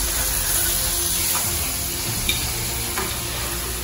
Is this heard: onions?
yes